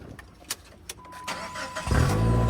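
A Chevy HHR SS with a straight-pipe exhaust cranks over through a few sharp starter clicks, then catches and settles into a loud, raspy, rumbling idle close by.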